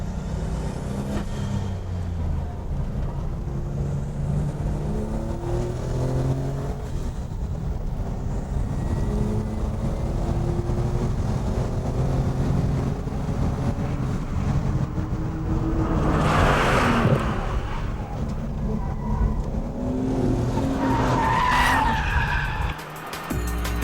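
A Porsche 930 on a race track rumbles along under steady engine and road noise, then brakes hard with bursts of tyre squeal and skidding in the later part, all fairly close.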